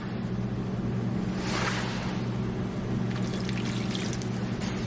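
Water poured from a cup into browned ground meat sprinkled with taco seasoning in a pan, a steady splashing pour lasting several seconds, close and moderately loud with no talk.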